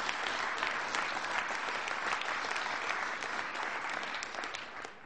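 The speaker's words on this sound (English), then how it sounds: "Give them a big round of applause." A round of applause for building trades and plumbers' union members at a government event on new nuclear reactors. The clapping is steady and continuous and fades slightly at the end.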